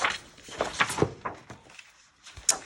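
Paper is torn by hand for a no-sew boho journal: several short, rasping rips come in bursts, close and fairly quiet, with no talking.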